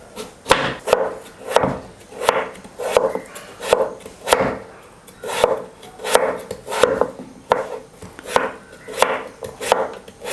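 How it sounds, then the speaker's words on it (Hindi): A knife chops peeled potatoes finely on a wooden board, the brisk, evenly spaced thuds close and loud, running steadily throughout with no talking. "तो इनको अब हम बारीक काट लेंगे"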